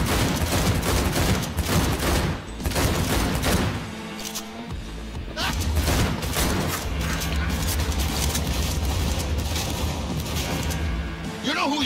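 Rapid bursts of gunfire from a firefight in Cyberpunk 2077, played on Xbox Series S, crackling loudly and almost without pause through the whole stretch, with heavy booming impacts and someone talking over the shooting.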